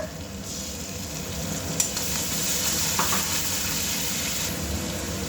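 Garlic paste frying in hot oil in a pan, a steady loud sizzle with faint scraping and stirring strokes of a spoon, part of cooking a cauliflower-stem vegetable dish, with no talking.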